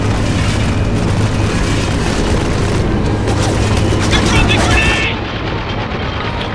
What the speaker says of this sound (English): Who is dropping grenades?